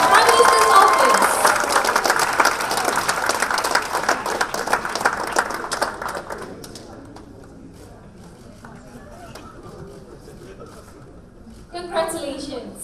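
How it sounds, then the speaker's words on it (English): An audience applauds the winners at a public speaking competition final, dense clapping loud at first, then thinning and fading before a short fresh burst near the end. "let's give them another loud round of applause"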